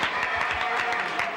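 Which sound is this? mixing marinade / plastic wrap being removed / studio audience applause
studio audience applause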